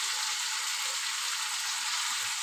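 Spice masala sautéing in a pan gives off a steady, even sizzle and hiss that carries through the whole stretch with no talking over it.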